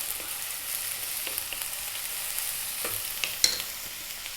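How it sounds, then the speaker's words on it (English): Black-eyed peas dropped into a hot pan of eggplant, frying with a steady quiet sizzle while a utensil scrapes and stirs, a few soft clatters and one sharper knock standing out near the end. "We're going to drop in our black eyed peas."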